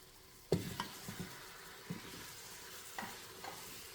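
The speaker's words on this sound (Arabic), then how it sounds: "نضيف الحين البهارات، والحين نضيف اللحمة" Meat sizzling with spices in a pot for Saudi kabsa, a quiet steady fry broken by several sharp stirring scrapes and clacks, close and alone.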